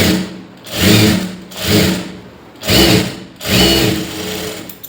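A sewing machine stitches a lining blouse in four bursts of steady whirring, each swelling and easing off with short pauses between, close and loud with no talking.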